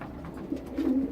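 Racing pigeons coo softly in a breeding loft, with low throaty calls swelling near the middle and end of the moment against a quiet room background.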